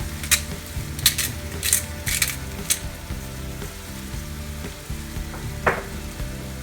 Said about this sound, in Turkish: Şöyle biraz karıştırıyoruz.